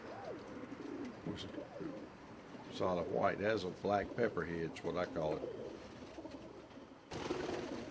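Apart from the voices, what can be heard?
figurita pigeons cooing in a loft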